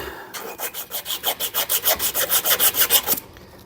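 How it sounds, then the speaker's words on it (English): Sandpaper rubs back and forth in about fifteen quick, even strokes, smoothing burrs off the starter clutch of a 46-year-old vintage lawnmower. The rasping is close and rhythmic. "Take and sand this up, just in case there's any little burrs on there"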